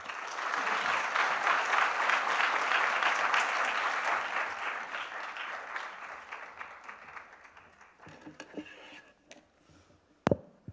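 Congregation at a Sunday youth worship service applauds warmly to welcome a pastor to the front; the dense clapping holds steady, tapers off after about seven seconds, and ends with a few scattered claps and thumps.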